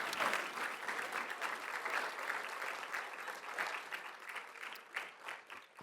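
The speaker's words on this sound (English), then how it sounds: "Please give them a big round of applause." An audience at a WVU College of Law honors day gives a sustained round of applause, a dense, even patter of many hands heard from a moderate distance, slowly thinning toward the end with no speech over it.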